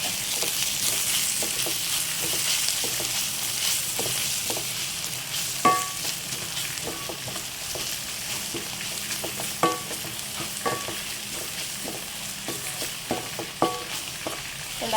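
Egg curry masala with meat masala sizzles steadily in a pan while a spoon stirs it, its scrapes and taps coming in scattered bursts over the constant frying hiss, close and without talk.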